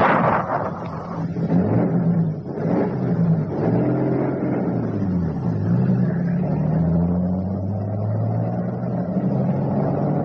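A car engine in a radio drama turns over and revs, then holds a steady, loud running drone with rising and falling pitch for about ten seconds, with no voices over it.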